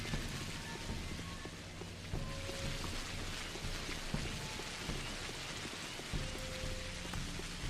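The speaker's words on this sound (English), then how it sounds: "I wonder if I'll get sick from running around in the rain like this" Steady rain pours in the video game Pathologic, a dense, continuous hiss with scattered droplet patter and low rumbling underneath, constant and fairly loud throughout with no talking.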